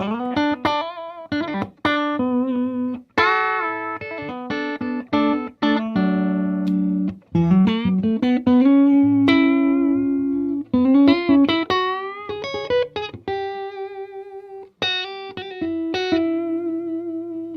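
Electric guitar with an extended upper horn, Wilkinson tremolo and hyper vintage pickups, Charger RA, played on the neck pickup: clean sustained melodic notes and chords with slides and bends, loud and alone.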